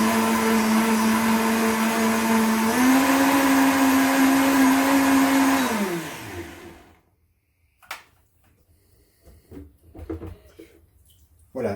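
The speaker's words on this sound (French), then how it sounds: "Et là, je mixe tout." A countertop blender roars steadily for about six seconds while mixing a bulletproof tea with mushroom, its pitch rising once, then winds down to a stop, followed by a few faint clicks and handling noises.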